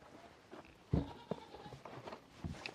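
A Nigerian Dwarf goat on a Canadian homestead gives a short bleat, with a couple of softer, fainter calls and light shuffling around it in an otherwise quiet setting.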